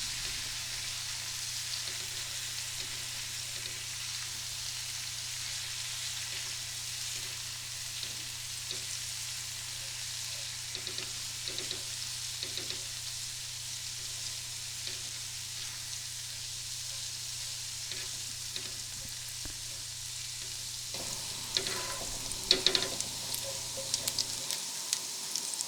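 Garlic fries in oil with a soft, steady crackling sizzle for most of the stretch, joined near the end by a few louder clatters and stirring noises as the pan is handled.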